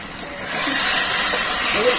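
A lid comes off a pan of potatoes cooking with spices, releasing a loud, steady hiss of steam and sizzling that rises about halfway through and continues to the end, with no one speaking over it.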